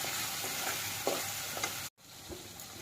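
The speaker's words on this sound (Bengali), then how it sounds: "রসুনের থেকে যেটুকু জল বেরোনো ওটাও বেরিয়ে যাবে, কষানোটাও হয়ে যাবে ভালো করে" Garlic and spices sautéing and being stirred in a pan for mutton curry, a steady broadband sizzle with a few soft scraping stirs and a brief dropout near the end.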